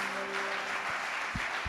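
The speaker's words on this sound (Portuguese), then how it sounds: "Você pode dar um aplauso ao Senhor Jesus?" Applause from a church congregation during a Portuguese-language sermon, a steady broadband wash of clapping with a few louder close claps near the end.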